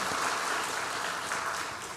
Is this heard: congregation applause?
yes